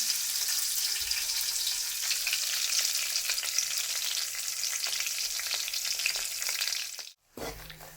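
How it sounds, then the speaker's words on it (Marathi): Peanuts and vegetables sautéing in a little oil in a pan, a steady bright sizzle with faint stirring scrapes, ending in a brief gap and a soft clunk. "शेंगदाणा सगळं टाकलेलं आहे मी एक दोन मिनिट छान असं परतून घेणार ते तेल मी एकदम एकदम थोडंसं घातलेलं आहे"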